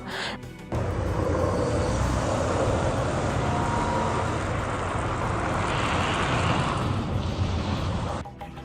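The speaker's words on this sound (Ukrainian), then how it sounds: "Это не скутер летит, это летит дрон." A drone flies overhead in a wartime setting, a loud continuous buzzing engine drone that holds steady for several seconds before cutting off, with no talk.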